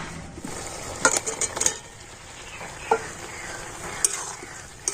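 Boiled potatoes are stirred with spices in a hot pan, giving a steady close sizzle broken by a few scraping stirs of a utensil against the pan, with no voices.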